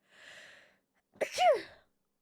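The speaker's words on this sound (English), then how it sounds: "I need to sneeze." A single close sneeze: a brief breathy intake followed by a sharp explosive burst, then silence.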